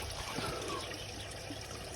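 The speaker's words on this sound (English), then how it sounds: "the water's coming up through the stones that are in here at the bottom" Water trickles and gurgles steadily through stones at the bottom of a homemade pond filter box, a continuous close splashing wash with no pauses.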